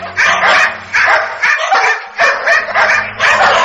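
A pack of dogs bark and growl in the dark, a loud, close, steady run of repeated barks and yips with no pause between them.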